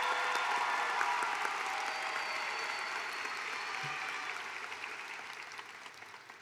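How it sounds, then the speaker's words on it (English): Audience at a university commencement ceremony applauding graduating seniors. The clapping is a dense, steady wash that fades gradually toward the end, with no voices over it. "A round of applause for these outstanding seniors."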